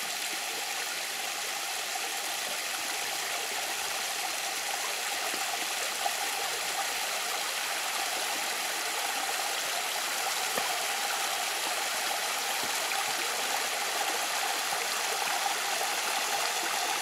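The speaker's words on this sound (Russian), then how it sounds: "А это маленький такой водопадик." A small waterfall on a mountain stream in Crimea, rushing with a steady, loud, full hiss of falling and flowing water that stays constant and close throughout, with no voices.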